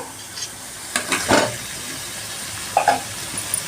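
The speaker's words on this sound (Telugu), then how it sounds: "ఇప్పుడు నెక్స్ట్ బాయిల్ చేసుకున్నటువంటి ఎగ్స్ని యాడ్ చేద్దాము" Boiled eggs being added and stirred into a frying masala in a pan, with a few short scraping and sizzling bursts against a quiet background.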